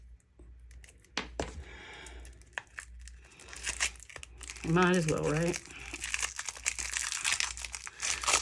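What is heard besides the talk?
package opened with scissors, wrapping crinkling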